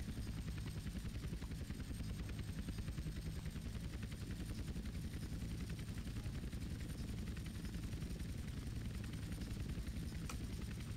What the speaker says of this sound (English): Can I get out of the helicopter, please?